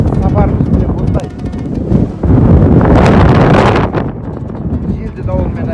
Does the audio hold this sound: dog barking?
no